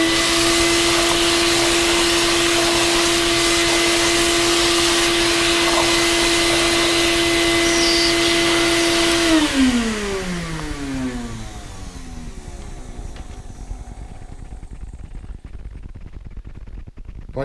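Shop vac running, a loud, steady motor whine with a constant roaring airflow that is cut off partway through, the pitch sliding down as the motor spins to a stop.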